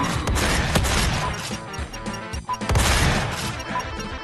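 Shotgun blasts in DOOM with a blind-accessibility mod, a dense barrage of loud booming shots and crashing impacts that fill the clip, with the game's sound effects layered over them.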